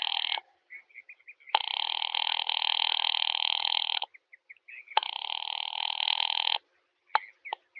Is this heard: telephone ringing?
yes